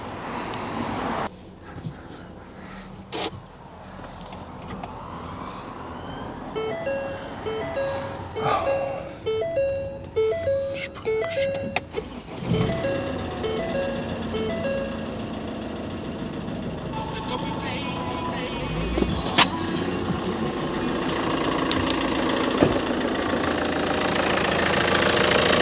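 A Ford Grand C-Max Euro 6 is cranked and started, with uneven engine turnover and clatter settling into a steady running hum, while a person talks intermittently over the engine noise.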